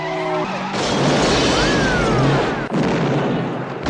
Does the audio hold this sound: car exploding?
yes